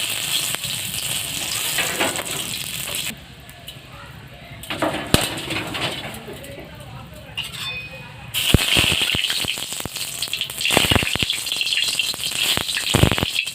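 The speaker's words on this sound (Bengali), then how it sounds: "মা ফোড়নের জন্য গোটা জিরে দিয়ে দিল, কালো জিরে, তেজপাতা" Whole cumin, nigella seeds and bay leaf crackling in hot oil for a Bengali mustard hilsa dish, bursts of loud sizzling and spattering that drop away briefly, with someone talking at times.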